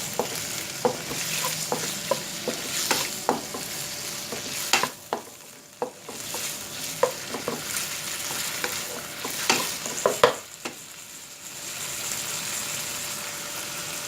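Chicken pieces frying over a medium flame, with steady close sizzling broken by scraping stirs and clicking knocks of a utensil against the pan.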